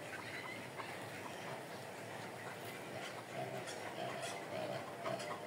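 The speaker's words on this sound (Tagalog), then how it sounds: "Ingay yung itik guys." Ducks quacking at a rural home during a coconut harvest for copra, a continuous noisy background of calls with outdoor ambience, fairly distant and steady throughout.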